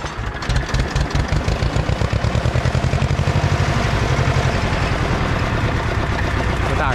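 An Ursus C-335 tractor engine runs steadily while the tractor drives with a disc harrow, giving a loud, close, rhythmic diesel knock and clatter throughout.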